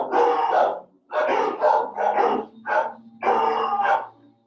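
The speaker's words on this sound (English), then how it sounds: "There goes my dogs." Several dogs bark in bursts of sharp, overlapping yaps and woofs, fairly close and prominent, with short pauses between volleys and lawnmower sounds nearby.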